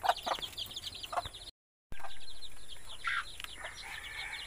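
Young chicks and hens around a coop give quick, high, rapid peeping and soft clucking in bursts, close by, with a brief gap of silence partway through.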